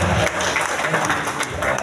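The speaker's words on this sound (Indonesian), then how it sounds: "Tepuk tangan kita semuanya." An audience in a school teachers' training opening ceremony claps in a brief, dense burst of applause that fills the room, moderately loud and without talk.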